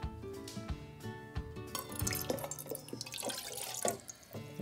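Water is poured from a tap into a rice cooker measuring cup, a faint splashing and trickling that runs steadily for a few seconds with no one talking.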